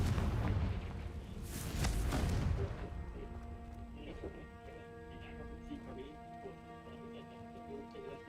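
A Confringo blasting spell erupts in the video game Hogwarts Legacy, a heavy booming explosion lasting a couple of seconds that fades into a soft, sustained tonal background.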